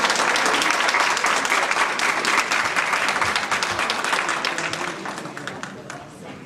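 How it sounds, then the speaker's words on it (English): A crowd at a Silky Terrier rescue parade breaks into dense, sustained applause for a rescued dog, loud and continuous before gradually tapering toward the end, with faint voices beneath. "Let's have a round of applause."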